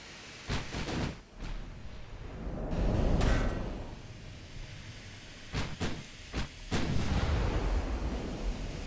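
Naval artillery from battlecruiser and dreadnought guns in the Ultimate Admiral: Dreadnoughts game, sharp booming salvos, several single shots and clustered volleys with rumbling swells between them, loud and near.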